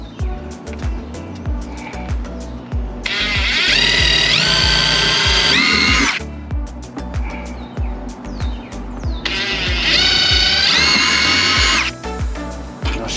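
A power drill bores a small starter hole in a boat's gel coat, whining loudly in two sustained bursts with idle pauses and clicks between, close up.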